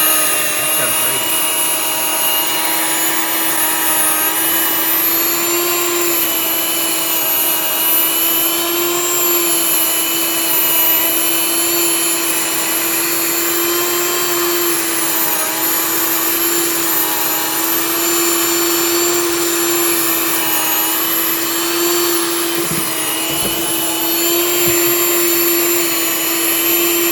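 A machine grinding rice into gluten-free flour, a steady loud high-pitched whine with a constant motor drone, running unbroken throughout with no pauses.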